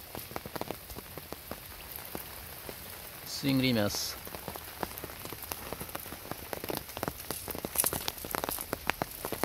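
Rain pattering steadily on surfaces during rainy-season fishing for shrimp, a scatter of close drips and taps running throughout, with someone speaking briefly in the middle.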